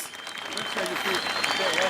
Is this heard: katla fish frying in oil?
no